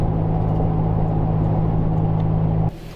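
A car drives steadily, heard from inside as a constant low engine rumble and road hum that cuts off abruptly near the end.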